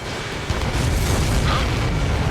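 A missile launches and explodes in the Ace Combat 7 video game, heard as a loud, dense roaring rush that thickens after a brief moment and holds steady, with no speech.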